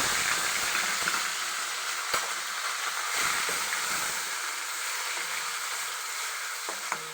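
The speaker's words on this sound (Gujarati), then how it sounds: "ડુંગળીનો વઘાર કરી નાખશું." Chopped onions fry in hot oil just after asafoetida is added, for a Saurashtra-style pav bhaji: a loud, steady sizzling hiss runs throughout with a couple of brief clicks.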